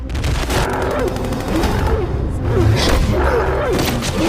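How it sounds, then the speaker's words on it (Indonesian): Rapid bursts of gunfire crackle back and forth in a loud, sustained film shootout, with whooshes and thuds mixed in among the shots. "baku tembak pun tak terelakkan"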